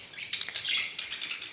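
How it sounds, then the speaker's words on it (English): A young lutino cockatiel kept as a pet, giving quick, bright, high chirps and tweets in a close, continuous burst with no talking. "This one is Lutino cockatiel."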